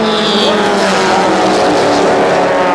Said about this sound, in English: As you see right now, Stu's getting a big skid there.